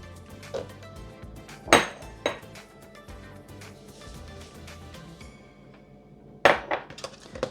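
Soft butter and sugar going into a bowl while preparing shortbread, with scattered clinks and knocks of utensils against the dish, including several sharp louder taps, all close up with no talking.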